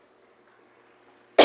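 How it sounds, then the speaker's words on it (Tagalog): A single loud cough bursts out at the very end, after a stretch of faint background hum. "Inuubo pa rin ako."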